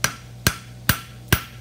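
The edge of a metalworking hammer strikes sheet metal for a roadster body four times in a steady, evenly spaced rhythm, each blow a sharp, close, ringing knock with no talking.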